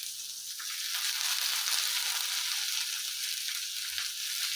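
Spices and fresh coriander leaves fry in a hot pan, a steady bright sizzle that runs loud and unbroken from start to finish with no talking.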